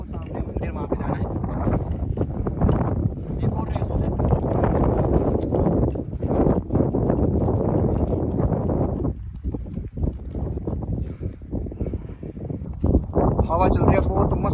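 Strong mountain wind gusts in Dalhousie buffet the microphone with loud, rumbling low-frequency blasts that swell and dip unevenly, near and overpowering throughout.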